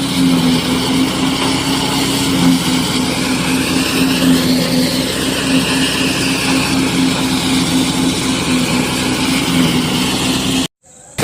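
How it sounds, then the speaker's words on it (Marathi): Steady mechanical drone of a rice threshing machine running continuously, loud and close, with a constant low hum and rushing noise before cutting out briefly. "आता आपण सुरुवात केली बघा मशीन चालू केली"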